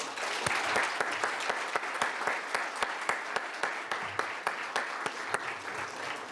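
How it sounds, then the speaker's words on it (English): Audience applause for award winners at an awards ceremony, steady dense clapping with sharp individual claps sustained throughout, no talking over it. "Please join me in giving another round of applause to our winners."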